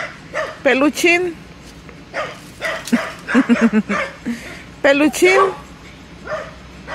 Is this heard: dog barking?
yes